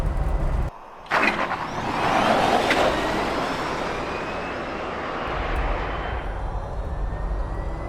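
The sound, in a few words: electric Land Rover Defender driving, straight cut gears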